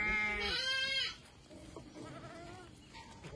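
Sheep and rams in a flock bleat loudly and close by, with a strong sustained cry at the start and quieter overlapping bleats following from the herd.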